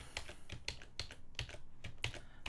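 Quick, irregular clicks of typing on a computer keyboard at an Arco Linux system, close and quiet, with short clusters of keystrokes and no talking.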